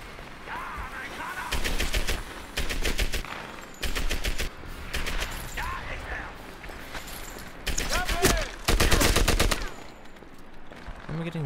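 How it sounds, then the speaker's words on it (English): Bursts of rapid automatic gunfire ring out repeatedly in the World War II shooter Medal of Honor Airborne, six or seven loud volleys separated by brief pauses, with faint background chatter between them. "Where am I getting shot at from?"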